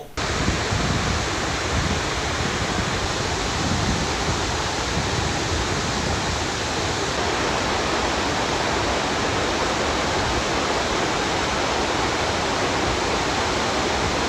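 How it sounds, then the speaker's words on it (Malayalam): A loud, continuous roar of rushing water from a waterfall at Charppa bridge in Kerala, dense and unbroken throughout, with no voices. "വെള്ളച്ചാട്ടത്തിന്റെ വന്യമായ സൗന്ദര്യം പ്രകൃതി മനോഹാരിതയുടെ അത്യാകർഷണം"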